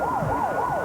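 Emergency vehicle siren wailing outside in a steady rising-and-falling sweep, several cycles in under a second, loud and continuous with no voices over it.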